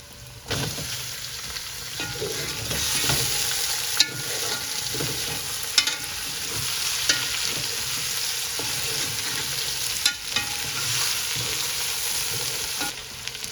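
Fish head pieces sizzle steadily in a hot pan while a utensil stirs and scrapes through them, with occasional sharp clinks of metal against the pan over a continuous broadband fry.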